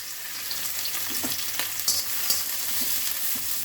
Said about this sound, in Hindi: इन तीनों को हम 1 मिनट के लिए फ्राई करेंगे ताकि इसका जो रॉ स्मेल है वो चला जाए।